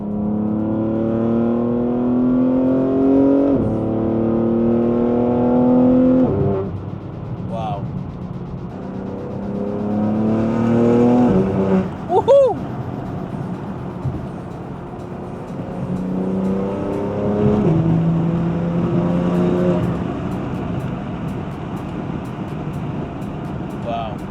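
A BMW G81 M3 Touring engine revs up steadily through fourth gear toward about 6,000 rpm, pitch climbing, then eases off and pulls again, loud and close with some road noise.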